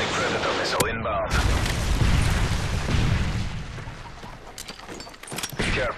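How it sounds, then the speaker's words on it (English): A Predator missile blast in Modern Warfare 3, a deep rumbling boom that swells and rolls on for several seconds after a sharp opening crack, with game voice lines heard over it. "Friendly Predator missile inbound."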